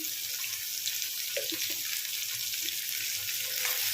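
Chopped onions with a little salt fry in a pan for an egg tomato curry, making a steady close sizzle with soft stirring sounds and a watery hiss throughout, no voices.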